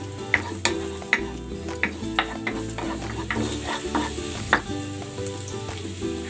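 Ginger sautéing in hot oil as a sauce for milkfish (bangus): a steady close sizzle punctuated by regular clicks and scrapes of stirring against the pan, with no talking.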